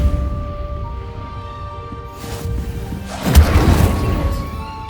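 An Incendio fire spell in Hogwarts Legacy strikes practice targets, a deep booming burst with a crackling whoosh that swells and fades over a low ambient rumble.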